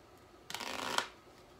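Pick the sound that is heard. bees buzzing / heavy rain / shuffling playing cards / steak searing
shuffling playing cards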